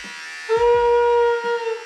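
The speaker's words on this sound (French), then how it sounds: "je vais me raser le crâne" An electric shaver buzzes to life and hums steadily close by, shaving a head ten months after a hair transplant, with a low motor whine and slight pitch changes as it moves.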